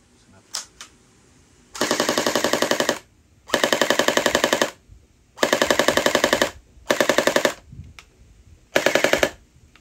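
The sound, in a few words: gel blaster firing full automatic on 7.4 volt battery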